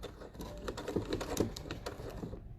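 A sewing machine with a zipper foot stitching velcro onto fabric, a steady rapid mechanical patter of needle strokes, close and moderately loud, that stops abruptly near the end.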